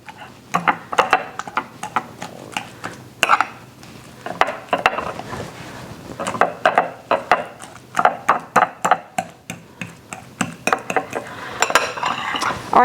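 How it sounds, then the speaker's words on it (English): Avocado mashed in a bowl with pepper and other seasonings, roughly chopped, for avocado toast: repeated clinking and scraping of a utensil against the dish in uneven bursts, close and fairly loud, with no voices. "when I'm mashing the avocado, it's going to be mixing those things into it too"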